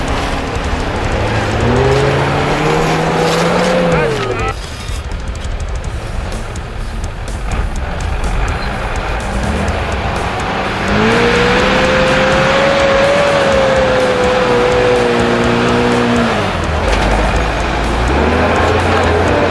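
A 4x4 off-road vehicle labours through loose sand on a dry riverbed, its engine revving hard and loud, rising and falling in pitch, then pushing through again in a second strong surge.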